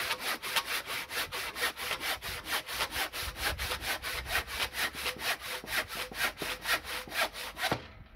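A hand saw cutting off overhanging bits of wood on a homemade wooden frame, with rapid, regular back-and-forth strokes, close and distinct, stopping abruptly at the end.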